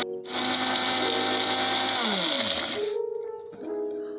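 An electric grinder whirs at full speed for about three seconds, pulverizing cinnamon sticks and black chickpeas, then winds down with a falling pitch and stops, leaving a little faint rattling.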